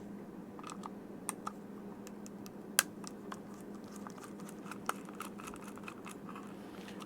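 Small plastic clicks and light snaps as the front plastic cover of a CoralLife Tetra Luft aquarium air pump is worked off, scattered and quiet, with no talk.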